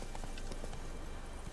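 Horse hooves clip-clopping in the video game The Witcher: Wild Hunt, a brief quick run of muffled steps under steady background game noise.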